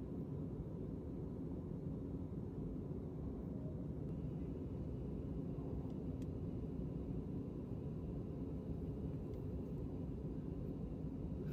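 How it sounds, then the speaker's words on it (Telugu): Inside an airplane cabin as the flight banks and turns before landing: a steady, low, droning engine rumble that stays constant and muffled throughout, with no voices. "చూడండి ఎంతలా టర్న్ అవుతుందో ఫ్లైట్."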